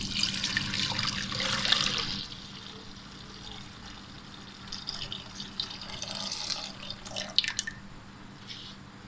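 Milk is poured from a container into a pot sitting on a stove while making mango kheer. A steady trickling pour comes through close and moderately loud, swelling briefly early on, then continuing as lighter splashing dribbles.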